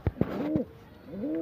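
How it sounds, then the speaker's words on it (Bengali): A Matraj pigeon coos softly and close by, with a few short throaty notes followed by two rising, drawn-out coos in a quiet setting. "এটা ম্যাটরাজ পায়রা, জোড়া দিতে হবে, এর জোড়া নয়, বন্ধ দামের পায়রা।"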